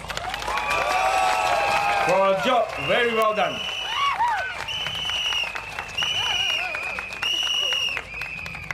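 Crowd at an outdoor political rally in Bukit Batok applauds and cheers in a steady, broad wash of clapping beneath someone speaking over a loudspeaker, with tonal whoops and noisemakers rising out of the crowd.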